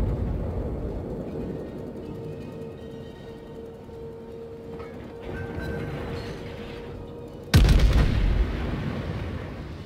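A shell strikes a warship in the naval combat game World of Warships: one sudden, loud, booming explosion cuts through a steady low engine and sea rumble near the end, with the rumble continuing afterward.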